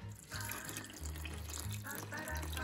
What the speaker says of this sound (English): 1 cup of water.